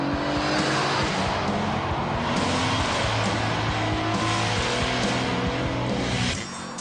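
A Renault Sport Clio racing car drives hard on an open road, its engine loud and continuous with rising and falling revs through gear changes, close and without talk.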